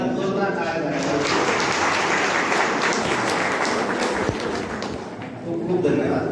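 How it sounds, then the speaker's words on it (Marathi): A hall audience gives a loud, sustained round of clapping for meritorious students at a college foundation-day prize ceremony, with the dense applause running steadily throughout. "सर्व गुणवंत विद्यार्थ्यांसाठी एकदा जोरदार टाळ्या झाल्या."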